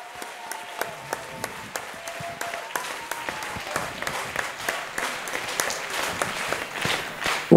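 Audience at an outdoor festival theatre play in Eeklo claps steadily, the applause building from scattered claps into a fuller, louder round with a few individual sharp claps standing out.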